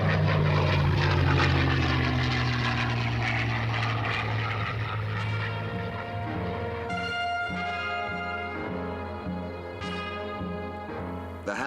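A propeller aircraft, a WWII RAF plane flying convoy air cover over North Africa, drones loudly and steadily overhead, its engine pitch shifting slightly as it passes, with no voices.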